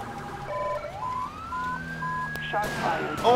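A police siren from the LSPDFR game set to Code 3 Master Comm B with rumbler, wailing and yelping continuously in tone sweeps and short bursts, close and clear over low vehicle rumble.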